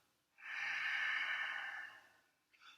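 A single long ujjayi yoga inhale drawn through the nose with a constricted throat, a close, steady, airy hiss that swells, holds for about a second and a half and fades, followed by a short breathy catch.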